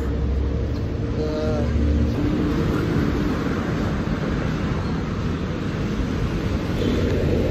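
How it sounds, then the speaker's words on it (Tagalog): Steady, dense crowd and engine rumble fills a busy bus station, with a brief horn-like tone early on and constant background hum. "kung maririnig yung ingay, nandito na tayo sa bus station"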